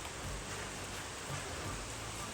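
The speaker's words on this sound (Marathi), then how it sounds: "लय जबर पाऊस चालू आहे." Heavy rain pouring down steadily: a dense, constant hiss with no breaks and no voices over it.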